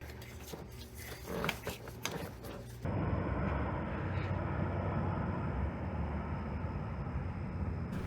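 A military cargo plane passes overhead, a loud, steady broadband roar that swells in suddenly and fills the remainder of the clip, preceded by a few seconds of scattered clattering noise.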